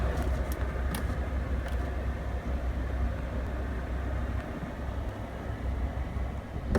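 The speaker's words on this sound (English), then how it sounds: "I'm gonna move the car around here" A car being driven and moved a short distance, giving a steady, continuous rumble of engine and road noise with no voices.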